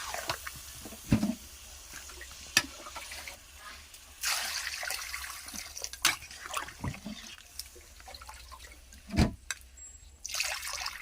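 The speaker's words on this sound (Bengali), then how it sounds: "আলু আর মাংস একটু কষায় পানি দিয়ে দেবো" Water trickles and splashes into a cooking pot of meat and potatoes in short bursts, with occasional clinks of a vessel and soft drips between pours.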